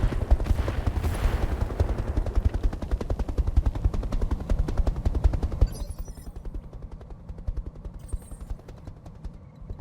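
Mech machine guns in Roguetech rattle in a long rapid stream of loud, close bursts that thin out and trail off toward the end.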